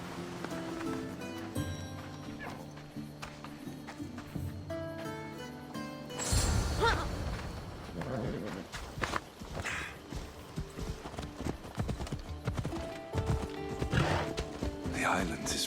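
Steady clip-clop of horse hooves while riding in Assassin's Creed Odyssey, a continuous trotting rhythm that grows louder and busier partway through, over background music and ambience.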